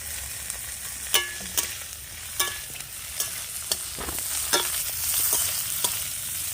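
Garlic and whole radhuni seeds tempering in hot oil alongside pre-fried small mourola fish, with a steady frying sizzle broken by sharp spatula stirs and scrapes against the pan at irregular intervals.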